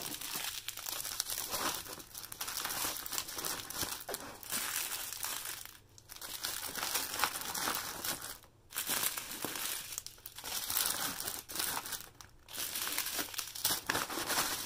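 Small zipper mesh bags are shoveled into a container, giving a continuous close crinkling and rustling with brief pauses between handfuls.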